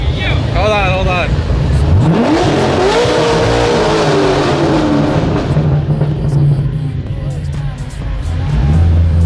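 Chevrolet Corvette Z06 at a Houston car meet, loud engine revs rising and falling sharply with a tire-squeal-like whine over a busy crowd backdrop, then a steadier high-pitched drone close by.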